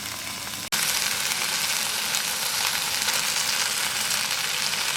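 Chopped tomatoes hit a hot pan and fry with a steady, close sizzle after a brief break near the start, with no talking.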